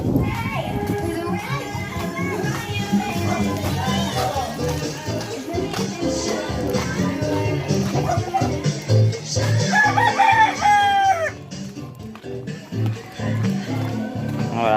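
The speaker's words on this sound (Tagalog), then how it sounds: "Maraming chicken dito" Roosters crow and chickens cluck around a rural village lane among fighting cocks, with several crows rising over ongoing chatter, children's voices and nearby outdoor bustle.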